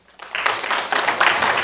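A crowd at a city planning commission meeting bursts into clapping after a brief quiet moment, the applause rising quickly and staying dense and lively to the end.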